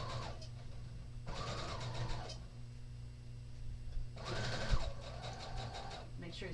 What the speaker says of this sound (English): I'm going to stitch close to the edge, not right on top of it.